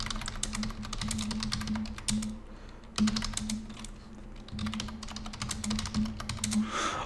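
Rapid keystrokes on a computer keyboard come in dense clattering bursts with short pauses between them, close and clear over a faint steady hum.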